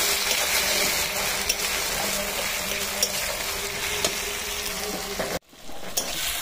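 Tomatoes hiss and sputter as they fry with browned onions in an oiled pan, with a spoon scraping and clicking at regular intervals, then a brief break before the sizzle resumes.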